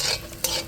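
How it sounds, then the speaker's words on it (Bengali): Lentil dumplings (bori) crackle and hiss in hot oil, a close continuous sizzle with a quick stirring scrape partway through. "বড়িটা দিয়ে ভেজে নিই"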